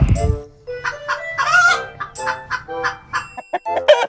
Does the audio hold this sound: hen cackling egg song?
yes